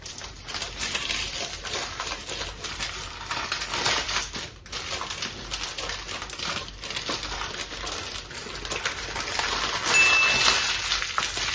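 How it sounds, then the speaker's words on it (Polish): Continuous crinkling and rustling of paper as food is wrapped close up, steady handling sounds with occasional soft taps, no talking. "Zawijamy to wszystko w papier."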